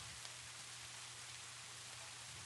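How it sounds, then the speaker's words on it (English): Steady rain falling outside in a soft, even hiss, very faint and distant, continuous with no talk. "you hear rain falling steadily outside"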